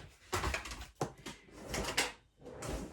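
Drawers slide open and shut repeatedly during a search, several close, loud scraping and thudding pulls in an uneven rhythm, with rummaging between them.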